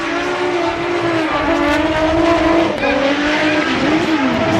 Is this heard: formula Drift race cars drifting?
yes